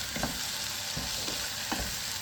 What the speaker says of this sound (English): Frying with all my powder seasoning